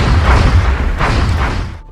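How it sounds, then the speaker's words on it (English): A muton alien in the video game XCOM: Enemy Unknown fires a shot, a loud, dense, rumbling blast that rolls over about two seconds with a couple of swelling bursts before cutting off abruptly. "if the target moves, the muton gets to take a free shot"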